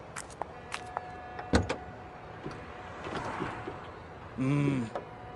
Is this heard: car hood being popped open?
yes